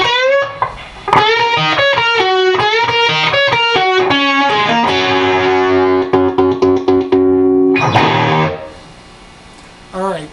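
A distorted electric guitar plays a fast lick from a song, with rapid picked notes and double stops, loud and close, ending on a held chord that fades before a brief final strum.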